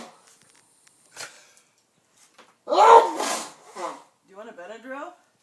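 A single sharp, breathy sneeze bursts out after a stretch of near silence, followed by quieter voices talking nearby.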